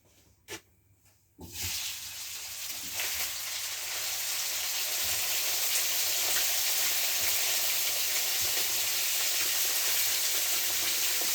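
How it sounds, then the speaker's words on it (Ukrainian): Fresh pork from a home-slaughtered pig hits a preheated frying pan. After a quiet moment and a knock, a bright, loud sizzle bursts in and then settles into a steady crackling fry, close by, with no talking. "сковородочка прогріта і погнали. Так, зараз буде шкварчати."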